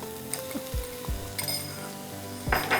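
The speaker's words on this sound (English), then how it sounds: "Now I'll add red capsicum" Red capsicum dropped into a pan of sautéing onions, giving a few clinks and scrapes of a utensil against the pan over a soft steady sizzle, with a louder rustling stir near the end.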